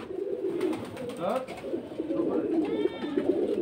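Domestic pigeons flying as a flock over a rooftop loft, heard as a soft continuous cooing and bird activity at moderate distance, with someone talking through much of it.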